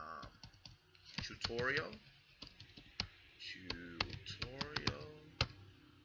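Fingers type a URL on a computer keyboard, a run of quick, close clicks of keys that sit under a voice as he talks through the steps.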